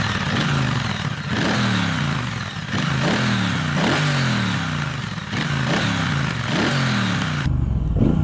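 A 2021 Triumph Speedmaster cruiser motorcycle's engine is revved repeatedly while stationary, each throaty blip rising and falling in a regular series of about eight revs, loud and close.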